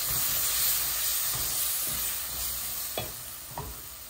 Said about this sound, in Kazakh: Оны да жақсылап араластырамыз.